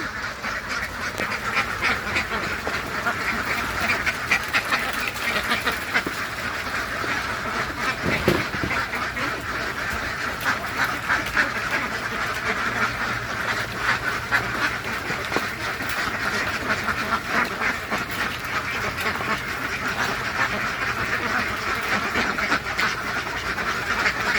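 Ducks quack steadily and close by, a dense, continuous chorus with no pauses, while the flock is fed beetle larvae.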